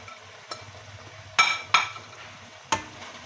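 Spices, green coriander, green chillies and onion are stirred into tomato chutney in a pan, giving a quiet soft sizzle broken by several distinct scraping clinks of the spoon against the pan.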